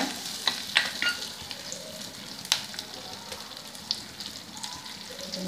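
Shallots and curry leaves sauté in a pan for a fish curry, with a soft continuous frying hiss broken by sharp spatula scrapes and clicks, near and moderately loud.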